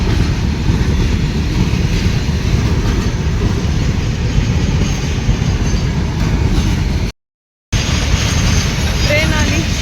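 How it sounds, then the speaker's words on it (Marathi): A train rumbles into a station with a steady, loud, continuous roar of rolling wagons and wheels, broken by a brief gap, and a faint squeal appears near the end. "ट्रेन आली."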